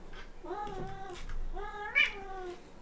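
A house cat meows twice, two drawn-out tonal cries a second apart, the second rising sharper and louder, close to the microphone over quiet room noise.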